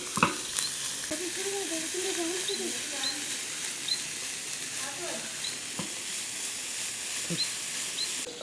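Chicken pieces being stirred and fried in a pan for chicken momos, a steady broadband sizzle with scraping stir strokes, close and moderately loud, with faint voice-like sounds in the background.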